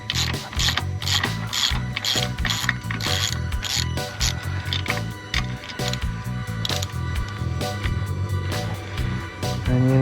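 A ratchet works loose a tight bolt on a Mercury 60hp four-stroke outboard, giving a rapid, continuous run of sharp metallic clicks, close and loud.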